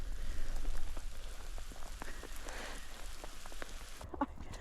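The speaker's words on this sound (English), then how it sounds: "We took shelter under that pine tree for a while, and it rained pretty heavily." Heavy rain pours steadily onto a hiking trail beneath a pine tree, a dense, even hiss of drops lasting throughout with no voices.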